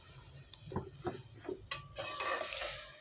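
Chopped onion sizzles and crackles in hot oil while being stirred, with a few scraping stirs up front and the frying hiss growing louder toward the end.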